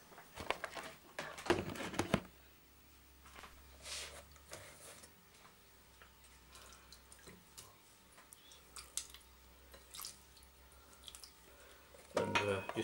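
A spoon stirs pineapple cake batter mixed with apple juice in a bowl, giving quiet scraping with a few sharp clinks near the start and again at the end, and a near-silent stretch in between.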